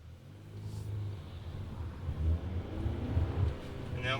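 A 2014 Honda Civic Si engine accelerates in low gear, a steady close rumble that swells and builds over a few seconds inside the car.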